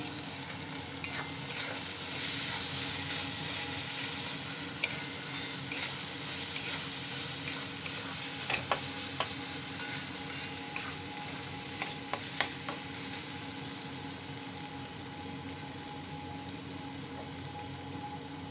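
Ground cumin and coriander sauté in a pan for khichdi made from leftover rice, a low steady sizzle under repeated stirring scrapes and sharp spoon taps against the pan, close and quiet, with no talking.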